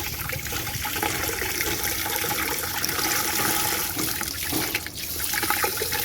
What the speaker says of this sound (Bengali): এই কলটা খুলতে শিখে গেছে সারা ছাদে এলে এই কলটা খুলে দাঁড়িয়ে আছে